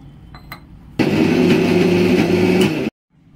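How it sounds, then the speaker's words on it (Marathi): A kitchen mixer grinds soaked mixed dal with a little water into a coarse batter, a loud steady whirring roar lasting about two seconds before cutting off abruptly. "मिक्सरला मी बारीक करून घेते, जास्त बारीक नाही करायची आहे, थोडं पाणी घालते"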